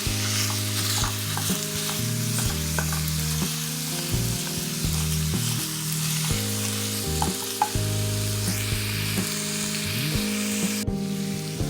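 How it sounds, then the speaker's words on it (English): Ground beef cooking with onion and garlic sizzles steadily in a pan for lasagna, with a constant loud crackle and scattered stirring scrapes, while music plays underneath throughout. "mix the burger and the onion and garlic. And we're going to cook it until it's nice and brown."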